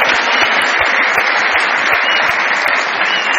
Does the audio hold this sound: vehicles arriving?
no